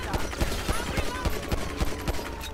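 Rapid gunfire bursts from a GTA 5 police-mod shootout, a quick run of sharp, evenly spaced shots over a steady din, loud and close.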